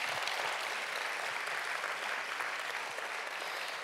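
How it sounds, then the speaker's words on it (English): Demo day audience applauds in a dense, even wash of clapping that sounds somewhat distant and soft, continuing steadily throughout. "I'd just like to ask everyone to give another round of applause to Cohort 5."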